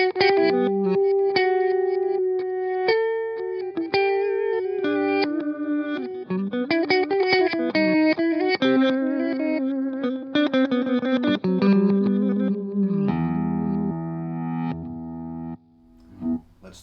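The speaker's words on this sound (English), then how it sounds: "The Canyon delay also has a reverse delay on board, which sounds like this." Electric guitar through an Electro-Harmonix Canyon delay pedal set to reverse delay, with swelling backward echoes of plucked notes layered into a dense, continuous wash that fades out near the end.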